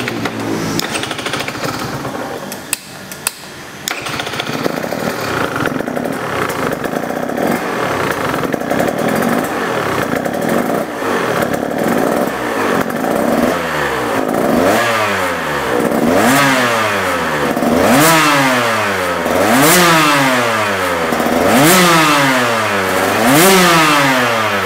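A two-stroke dirt bike engine, KTM 125 SX or YZ125X, is heard loud and close: ragged idling and blips at first, then a series of sharp, rising revs that scream up and drop back in a fast, repeated rhythm.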